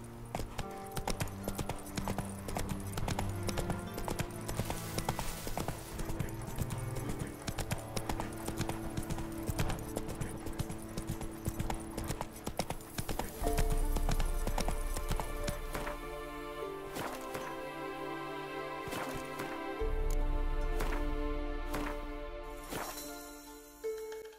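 Horse hooves clip-clop steadily in The Witcher 3: Wild Hunt, a continuous rhythmic trot over game ambience, with a horse's whinny and shifting background sound later on.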